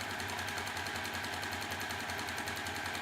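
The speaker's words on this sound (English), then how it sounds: "This is 4 straight lines of sewing." Sewing machine running steadily while stitching straight lines on a corner cover bookmark, a continuous fast mechanical whir with a rapid needle rattle, fairly close and uninterrupted.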